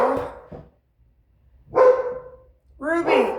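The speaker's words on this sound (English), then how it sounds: "don't mind my dogs" Dogs bark indoors in a kitchen near a sink, three close, loud bursts separated by short silences.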